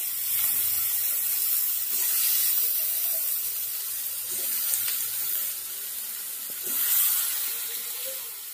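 Bombay duck (lotte) fish pieces frying in hot oil with spices, a steady broadband sizzle and hiss with watery crackle, fairly close and continuous with small swells.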